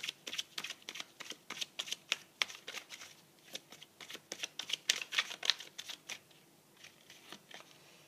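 Tarot cards shuffled and dealt for a horoscope reading: a steady run of crisp, close card snaps and slaps, dense through the first half and thinning to scattered single placements toward the end, with no talk.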